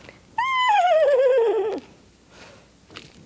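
A human voice imitates a horse's neigh during a children's puppet story, one loud, sustained, wavering whinny that slides downward in pitch, followed by quiet background.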